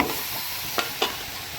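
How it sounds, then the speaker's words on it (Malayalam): Meat curry mixture being stirred in a hot pan while it fries, a continuous sizzle with two quick scraping strokes of the spoon in the middle. "ഇത് നമുക്ക് ഇതെല്ലാം നല്ലതുപോലെ ഒന്ന് മിക്സ് ചെയ്ത് കൊടുക്കാം."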